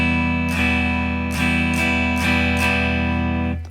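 Guitar strummed in a down-up pattern, several sharp strokes ringing over a sustained chord, close and alone with no talk.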